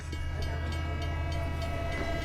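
A train sound effect rolls steadily with rhythmic clickety-clack and a sustained tonal horn-like drone, loud and constant throughout.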